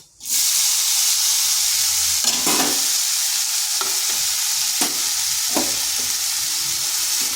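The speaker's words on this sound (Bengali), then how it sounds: "এই ফোড়ন থেকে সুন্দর একটা গন্ধ বেরিয়েছে এরপর দিয়ে দিচ্ছি কেটে রাখা আপেলগুলো" Cut apples tipped into hot oil with a nigella seed tempering for an apple chutney, bursting into a loud sudden sizzle that holds as a dense, steady close hiss, with a few scrapes and stirs over it, no talking.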